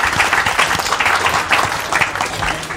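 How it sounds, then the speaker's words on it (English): Loud, close applause at a live photography podcast show in Brighton, with a crowd clapping briskly and continuously through the short stretch. "nice round of applause then, please, for Nick Turpin"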